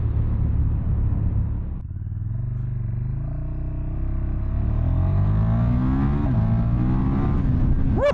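KTM 1290 Super Duke R motorcycle engine revving hard, a loud close throaty roar that drops briefly then climbs steadily up the rev range, with no talk over it.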